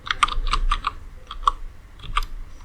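Quick bursts of keystrokes on a computer keyboard while Java code is typed, close and clear, with short pauses between groups.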